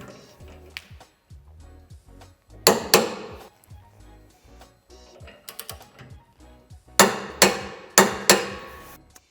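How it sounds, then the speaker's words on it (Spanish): Self-locking nuts being tightened on a tow hitch fitted to a Toyota Hilux, heard as sharp metallic clacks and ratcheting bursts in irregular clusters, close and fairly loud, separated by quiet gaps. "Al ser tornillos de 16 tendremos que darle 200 Newton de par de apriete."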